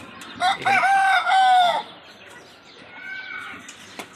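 A crate of native country chickens, with a loud nearby rooster crow sounding early on, followed by softer clucking and murmuring from the hens in the crate.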